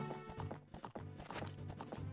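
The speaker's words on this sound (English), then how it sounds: "Is that Ganon's horse?" Horse hooves clip-clop in a steady galloping rhythm with a whinny, set in the Zelda Spaceworld '97 beta video game; game music and effects play along, and the hooves are loud and close.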